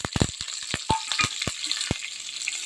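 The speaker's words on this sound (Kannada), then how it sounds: "ಒಗ್ಗರಣೆಗೆ ಈರುಳ್ಳಿ ಮತ್ತು ಕರಿಬೇವಿನ ಸೊಪ್ಪು ಹಾಕ್ತೀನಿ" Onion and curry leaves hit hot tempering oil in a pan for a sambar, giving sharp crackling pops and a bright steady sizzle, close and loud with no voices.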